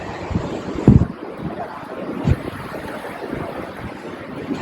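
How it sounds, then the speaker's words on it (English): Wind buffeting a microphone outdoors during a yoga session, a steady rough rumble with a couple of louder gusts. "it's a little bit windy here"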